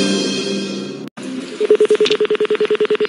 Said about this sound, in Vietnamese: Gọi điện thoại cho người thân.